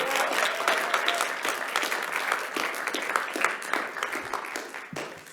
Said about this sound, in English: Another round of applause for Comandante Manuela.